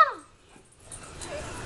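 A dog gives a short high whimpering yip at the start, followed by quieter faint shuffling and low background noise.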